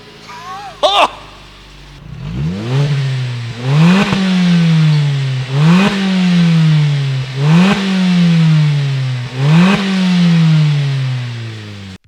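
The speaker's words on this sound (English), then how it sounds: "Here's the first start of the all-new muffler." A Suzuki Swift Sport with a new custom muffler backbox starts with a sharp crank, then settles into a deep, bassy idle punctuated by about five rising revs of the engine, each climbing and falling back, loud and close.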